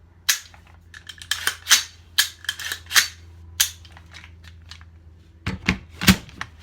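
A DPMS Oracle rifle fires in a quick series of sharp, close cracks with metallic clicks between, the shots irregularly spaced and ending in a tight burst.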